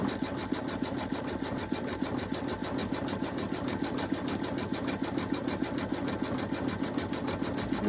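An embroidery machine stitching an Easter bunny appliqué runs nonstop with a fast, even needle rhythm and a steady mechanical hum, close and moderately quiet, with no talking.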